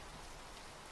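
Steady, dense rainfall patters on a surface, a continuous broadband hiss without thunder or voices, sustained at even loudness for the full second.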